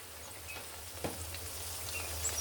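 Ginger paste dropped into hot oil on a lowered flame while cooking hilsa fish with jackfruit, a steady close sizzle with a few soft spoon taps.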